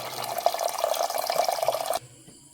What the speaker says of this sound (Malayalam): ഏകദേശം ഒരു ലിറ്റർ വെള്ളം നമ്മൾ ഒഴിക്കുന്നത് കേട്ടോ